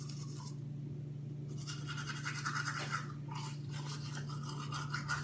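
Teeth being brushed with a toothbrush, a steady close scrubbing with short bursts and pauses over a constant low electrical hum, no talking.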